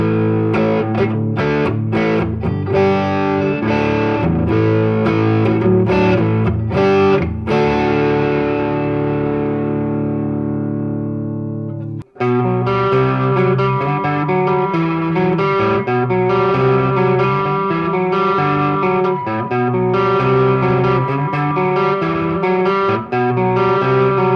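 Electric guitar played through a Tone Master Deluxe Reverb amp with overdrive engaged, loud and continuous with crunchy sustained chords, a strummed opening, a brief pause near the middle, then more driven chord playing.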